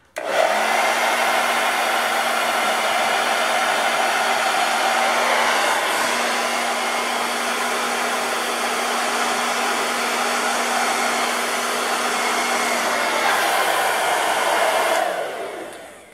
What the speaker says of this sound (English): So one thing I do like about using a blow dryer is that you have more control of where your paint goes